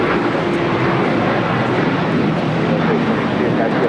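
Loud, steady jet roar of an Alaska Airlines Boeing 737-800 taking off at LAX, a dense continuous rumble with voices talking faintly underneath.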